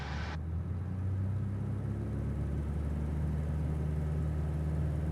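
A Cessna 172 engine runs at full takeoff power, a steady, droning propeller-and-engine rumble that holds constant and loud throughout, with no voices over it.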